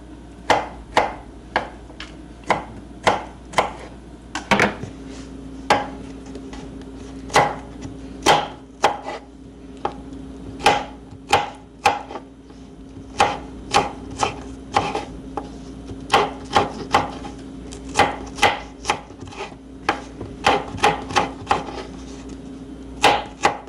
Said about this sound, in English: And I'm just going to cut these in little strips.